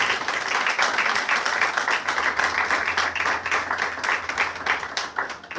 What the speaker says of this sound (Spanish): El aplauso al Señor